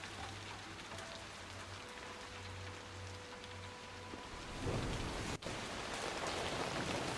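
Steady rainfall in the WW1 strategy game War Hospital, a continuous soft hiss with a low hum early on and a brief thump partway through, with no talk.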